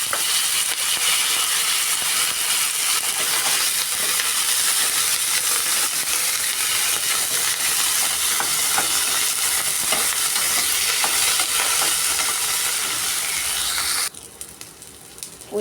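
Sliced onions, green chillies and curry leaves frying in hot oil in a pan for an okra and cashew fry, a loud continuous sizzle with stirring scrapes throughout, dropping off abruptly near the end.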